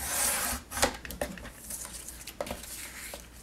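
A paper trimmer blade slides across cardstock for a craft card, giving a continuous close scraping rasp with small clicks and taps along the way and no voices.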